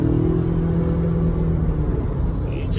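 A 2020 Ford Ranger engine rumbles steadily at close range, a continuous loud low drone with a slight rise, alone with no talk.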